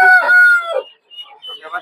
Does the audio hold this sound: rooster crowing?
yes